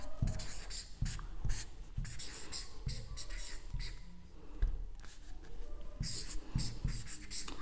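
Pen or chalk writing out an example during a Hindi grammar lecture, a string of quick scratchy strokes in uneven bursts, close and fairly quiet, with pauses between words.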